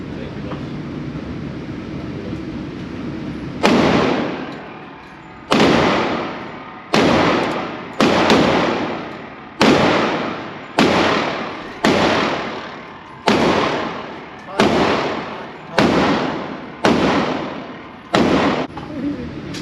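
An S&W M&P 2.0 10mm pistol fires barrel loads outdoors: after a few quiet seconds, about fifteen loud, sharp shots ring out at an uneven pace, each followed by a decaying echo tail.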